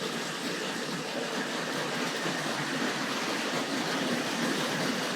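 A Hornby 00 gauge model train, a 9F heavy freight locomotive pulling ore wagons, runs continuously with a steady, even whirring rumble of motor and wheels on track, close and unbroken throughout.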